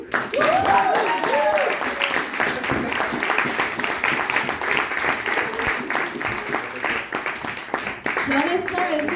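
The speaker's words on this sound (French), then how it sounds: "Applaudis." An audience at a live cabaret show applauds with sustained clapping and a murmur of the crowd, while voices sing or call out briefly at the start and end.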